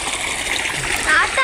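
Water rushes and splashes steadily as a swimming pool is drained, a continuous close wash of sound with a voice speaking over it.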